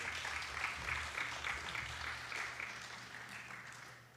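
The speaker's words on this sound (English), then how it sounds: "Let's give Bowen a big round of applause," Conference audience at a decentralization and AI summit applauding after a speaker, a steady wash of many hands clapping that slowly fades, moderately distant.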